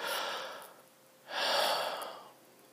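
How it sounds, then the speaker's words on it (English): Two slow, deliberate breaths close to the mic, a long exhale followed by a pause and another drawn-out airy breath. "you just try to slow your breathing down"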